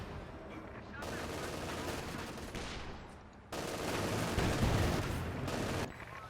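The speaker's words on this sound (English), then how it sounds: "Section A getting blasted by machine guns." Machine gun fire and other weapons in a Company of Heroes 2 real-time strategy battle, with dense continuous bursts of rattling gunfire in two long stretches, fairly loud and busy, with a short drop in intensity between them.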